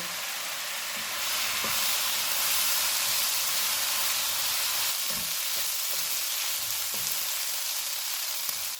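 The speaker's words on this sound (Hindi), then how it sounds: "इनको 2 से 3 मिनट तक भूनेंगे" Vegetables with soy sauce and vinegar sizzle steadily in a hot pan, a loud continuous hiss with occasional soft knocks and stirring sounds.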